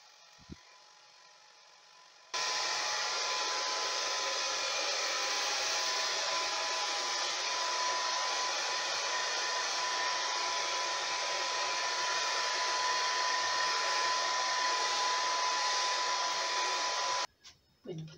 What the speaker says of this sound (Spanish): Yo me voy a secar el casco con el difusor y el resto del pelo con mi colador